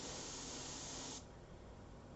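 An airbrush sprays paint in a steady soft hiss for about a second before the airflow drops to a fainter continuous hiss, close and quiet, with no talking.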